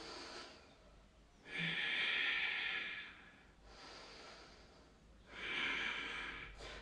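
Two long, breathy open-mouth exhales during a yoga flow for the spine and hips, each lasting a couple of seconds and separated by quieter inhaling, close to the microphone with no talking.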